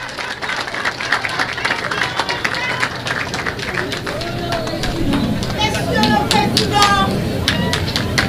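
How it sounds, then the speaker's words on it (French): Crowd applause at an official ceremony in Fort-Liberté, Haiti, attended by military officers, with dense, steady clapping and crowd murmur throughout, swelling slightly toward the end. "vos applaudissements."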